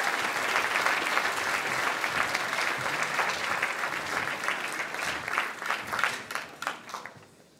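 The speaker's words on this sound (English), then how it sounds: "One more round of applause for Symphonic Band" A room full of people applauds the Symphonic Band at a high school band banquet, a dense, even wash of clapping that thins into scattered claps before fading out.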